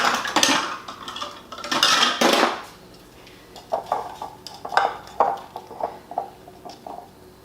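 Measuring cups clinking and scraping while frozen peppers are measured out for a homemade mango salsa, close clattering bursts followed by lighter scattered taps, with no one talking.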